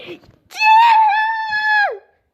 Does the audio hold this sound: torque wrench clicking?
no